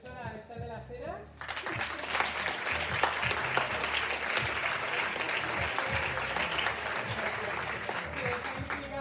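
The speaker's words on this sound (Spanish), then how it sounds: "Voy a pedir un aplauso" Audience applause for a teacher at an International Women's Day (8M) event at a school of art and design, starting after a brief voice and continuing as a steady, dense clapping for several seconds.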